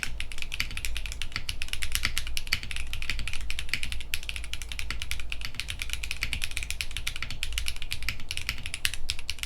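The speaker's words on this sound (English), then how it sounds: "This switch is fully palm, and as the name suggests, it's also super clacky." Clacky Clackbait mechanical keyboard switches are typed on in a fast, continuous run of sharp, close clacks with no pauses and no voices.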